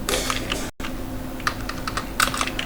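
Code is being typed on a computer keyboard in a Laravel programming session: quick bursts of close, crisp key taps with a brief pause between runs, and no talking.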